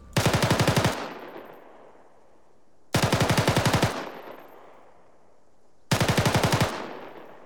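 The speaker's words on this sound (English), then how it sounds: "rapid rate of fire for the SAW" Three bursts of rapid automatic gunfire from a SAW light machine gun, each about a second long with a quick rattling cadence, separated by short pauses and echoing tails.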